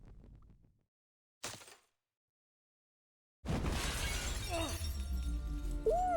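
Stained glass shattering in an Assassin's Creed game: a short crisp crack, a pause, then a loud bright burst of breaking glass with tinkling shards ringing out for several seconds.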